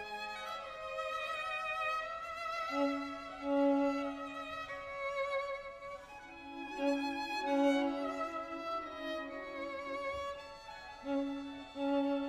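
A single viola plays the barking-dog figure in the Spring concerto of Vivaldi's Four Seasons, repeated accented low notes pulsing beneath a soft solo violin melody and gentle string accompaniment, steady and moderately quiet throughout.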